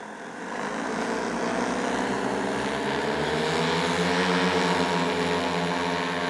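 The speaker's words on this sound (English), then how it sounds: "I think that was full throttle because I could see the drone not being able to stabilize itself." Heavy-lift drone propellers at full throttle, straining under a load it cannot lift: a loud, steady, buzzing whine that swells in at the start and climbs slightly in pitch as it holds.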